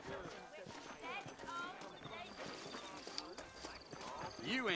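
Horses' hooves clip-clop in Red Dead Redemption, with a steady walking rhythm running beneath almost constant talk and in-game voices.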